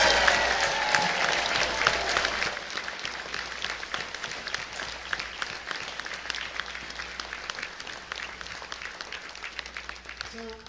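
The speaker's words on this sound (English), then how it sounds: "So I'd like you to give them all a big round of applause for all the work they're doing for you guys" A convention audience at a closing ceremony applauds volunteers with dense, sustained clapping that fills the room, starting loud and slowly thinning toward the end, with some voices mixed in.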